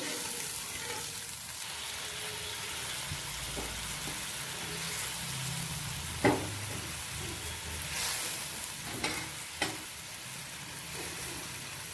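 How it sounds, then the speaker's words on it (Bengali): Pieces of fried fish go into a pan of sizzling onion masala for a fish curry, a steady broad sizzle with a few sharp clatters and splashes partway through, close and moderately loud with no talking. "তো ভাজা মাছগুলো দিয়ে দেবো।"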